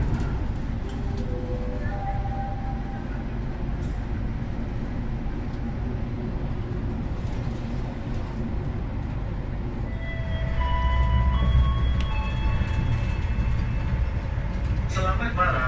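Inside the KA Bima Executive New Generation train on the Surabaya line in Indonesia, a continuous low rumble of wheels on track fills the carriage, growing louder later, with a chime and a voice over the noise.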